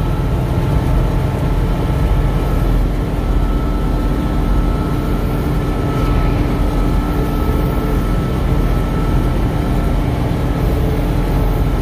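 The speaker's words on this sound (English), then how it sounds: "Trying to video for you guys and run this noisy combine" A Massey Ferguson 750 combine harvester roars noisily from inside the cab while cutting oats, a constant loud drone with no break.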